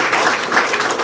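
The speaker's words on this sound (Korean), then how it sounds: "좋은 코멘트 해주셨는데 우리 박수 한번 좀 부탁드리겠습니다." An audience at a question-and-answer session on a Japanese nuclear accident gives a short, even burst of clapping, steady and fairly loud throughout its brief length.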